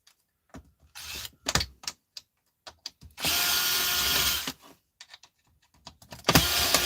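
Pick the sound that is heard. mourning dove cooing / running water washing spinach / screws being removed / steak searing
screws being removed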